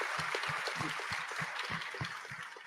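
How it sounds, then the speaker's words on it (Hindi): Audience clapping for the BSF at a media conclave event, a moderate spread of claps heard under and between a man's speech. "बीएसएफ के लिए जोरदार तालियां बनती हैं इसमें।"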